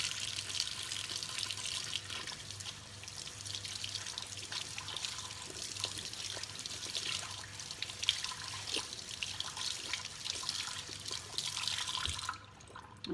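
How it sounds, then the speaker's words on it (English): Cold tap water runs steadily over homemade butter in a sink, a continuous close hiss of flowing water with small splashes and drips that cuts off abruptly near the end. "we have just run this through the cold water"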